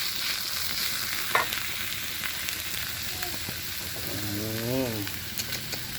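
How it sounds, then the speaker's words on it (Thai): Field rat meat stir-fries in a hot pan, producing a steady dense sizzle with occasional scraping stirs, close and continuous, while someone talks briefly over it. "พัดนี่ ผัดให้มันหอมๆด้วยกันนะครับ"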